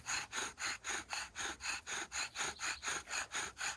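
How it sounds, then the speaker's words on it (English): A bow drill spindle rubs against wood to make fire, a close, rhythmic rasping squeak repeating back and forth about four strokes per second, alone without talk. "Maybe you don't want to have too much pressure down on the spindle."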